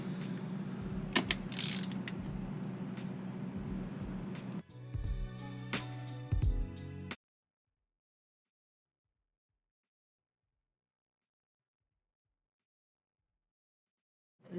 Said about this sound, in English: grab my handy dandy Husky 3/8 drive and go ahead and tighten it up